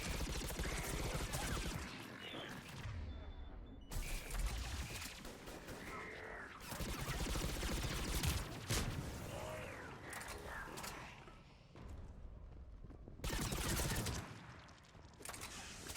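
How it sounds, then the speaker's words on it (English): Garrus firing his weapon in Mass Effect Legendary Edition, bursts of gunfire and mechanical clatter repeating through a dense, noisy battle mix, with some faint talk beneath. "Oh, now he's shooting, okay."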